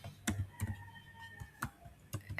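Typing an email address on a computer keyboard, crisp uneven key clicks in short bursts, close up and clear.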